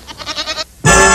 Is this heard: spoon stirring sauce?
no